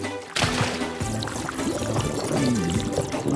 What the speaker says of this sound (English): Morphle, suck up all the water from Vanderboos' yard.